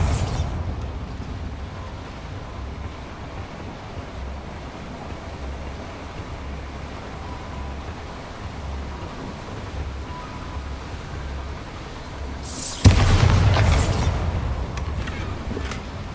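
A Bombarda spell goes off in Hogwarts Legacy as a sudden loud blast near the end, with a booming rumble that hangs on after a stretch of low ambient noise.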